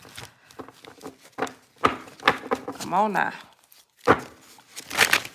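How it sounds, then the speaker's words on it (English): Tarot cards shuffled by hand in short crackling, riffling bursts with a few popping snaps, interleaved with someone talking over the shuffles. "A few more shuffles."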